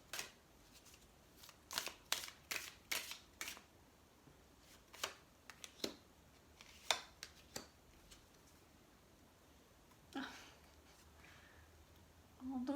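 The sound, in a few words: shuffling oracle cards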